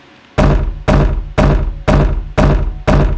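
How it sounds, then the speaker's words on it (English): Door sound effect from the video game Manamon 2, a loud, sharp knock-like thunk repeated six times at a steady pace, each hit decaying quickly, with no talking. "Door. You will come to love that sound during this game."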